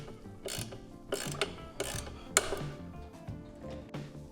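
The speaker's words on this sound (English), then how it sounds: "we're gonna unbolt the upper control arm here and here" A hand ratchet works loose the bolts on a Jeep upper control arm, giving quick bursts of clicking pawl strokes in an uneven rhythm, close up and fairly quiet, with no talking.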